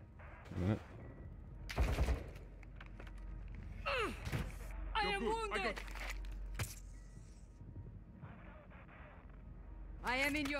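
Sharp gunshot cracks ring out in a video game battle, a few scattered loud bangs among thuds and shuffling, mixed with shouted in-game voices.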